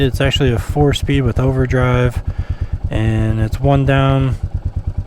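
A Royal Enfield Meteor 350 motorcycle idles with a steady, close thumping single-cylinder beat under continuous talking by a man.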